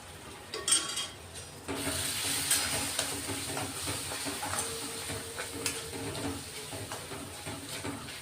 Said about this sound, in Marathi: तेल सुटेपर्यंत मसाला असा परतून घ्यायचा